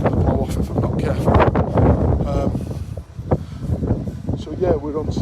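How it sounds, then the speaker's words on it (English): Strong wind buffeting the microphone outdoors on a suburban street walk, loud gusty rumbling that swells and dips throughout, with someone talking underneath it. "It's quite windy actually. I do apologise if the noise is really bad."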